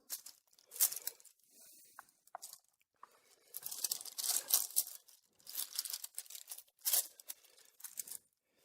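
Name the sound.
peeling off wax paper from a book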